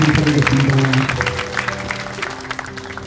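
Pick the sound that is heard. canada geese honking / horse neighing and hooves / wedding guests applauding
wedding guests applauding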